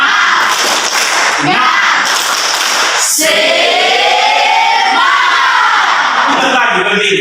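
A classroom of students performing a rhythmic spirit clap routine, loud bursts of clapping with shouting voices, close and energetic, ending in a sharp clap followed by excited group chatter.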